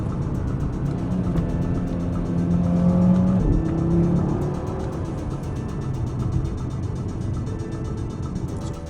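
A 2018 Audi TT RS or RS3 accelerating hard in dynamic mode, its engine droning loud and steady up close, swelling briefly in the middle before settling into a continuous roar.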